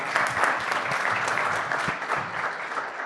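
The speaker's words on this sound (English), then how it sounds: "A big round of applause for a brilliant panel." Audience applause for the panel closing a discussion on AI and design, a steady, dense wash of many hands clapping that fills the whole stretch without pause.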